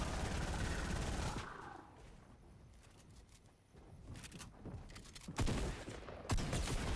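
Gunfire in the Fortnite video game during a fight with aliens and UFOs: a loud burst of shots opens, then sparser bursts and sharp reports return toward the end amid busy game noise.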